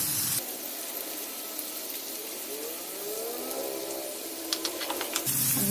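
Finely chopped onion hits hot oil and sizzles steadily, a bright, close hiss that starts abruptly and holds at an even level with a few small crackles near the end.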